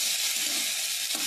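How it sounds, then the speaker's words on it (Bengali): Potatoes, soybean chunks and fried pointed gourd are stir-fried in a pan, a steady loud sizzle with soft scraping stirs running throughout, no voices. "এবার সোয়াবিনটা আলুটা ভালো করে কষিয়ে নেব"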